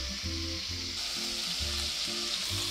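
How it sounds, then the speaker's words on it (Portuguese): Ground beef and finely chopped half red onion browning together in a pan, a loud, continuous close sizzle with rhythmic stirring and scraping strokes throughout, no one speaking. "eu vou trazer ela para o canto para poder dourar a cebola aqui, enquanto a carne vai cozinhando lentamente nesse ladinho aqui"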